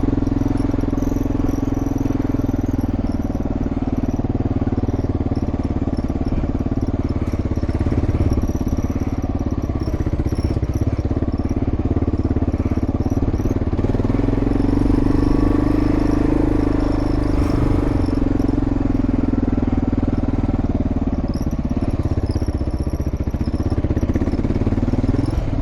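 A Kawasaki KLR dual-sport motorcycle rides off-road on sandy hill trails at Rampart Range, its engine droning steadily and loud throughout, with rising and falling pitch as the rider works the throttle.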